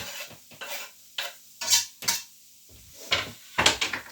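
Chopped onions going into a pan and frying in a home kitchen, heard as bursts of stirring and scraping with a soft sizzle between them, close and clear, with no talking.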